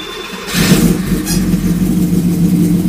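Porsche 928 engine just after an intake refresh, catching and settling into a steady, loud, close idle rumble after a brief burst at the start, with no talking.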